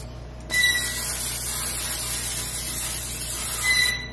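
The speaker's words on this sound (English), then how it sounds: "I'm spraying a pan with Pam" Pam cooking spray sprayed onto a pan: a loud, steady hiss lasting about three seconds, close up, with a brief second burst at the end.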